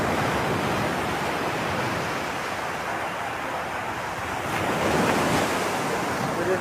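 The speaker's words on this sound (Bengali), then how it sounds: "দেখেন পানির কী অবস্থা, পানির স্রোত দেখেন।" Continuous loud roar of rushing floodwater in a swollen river current, a dense steady wash that swells slightly toward the end, with wind buffeting the microphone.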